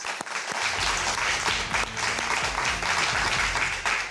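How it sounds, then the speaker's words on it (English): Audience applause at a high school quiz show, a continuous, even patter of many hands clapping at steady volume for the whole few seconds. "let's give these guys a round of applause"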